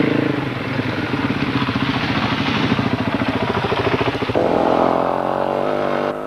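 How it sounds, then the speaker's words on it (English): A Suzuki DRZ 400 motorcycle on a rally stage, its engine a steady buzzing drone that holds close and loud for several seconds before shifting to a slightly different tone near the end. "Annette was riding a Suzuki DRZ 400"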